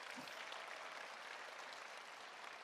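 An audience at a Korean business presentation breaks into steady applause, a dense wash of many hands clapping that runs unbroken from start to finish at moderate loudness.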